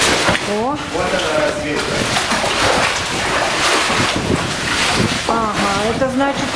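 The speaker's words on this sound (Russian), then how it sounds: "Вот какой тут сильный ветер, обалдеть. Прямо сдувает с ног." Strong wind roars and buffets the microphone continuously while someone talks over it in Russian, in Abkhazia near an abandoned mine.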